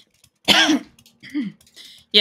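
A man clears his throat close to the microphone in a few harsh, rough bursts, and a short spoken word follows.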